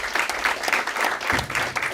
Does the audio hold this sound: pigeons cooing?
no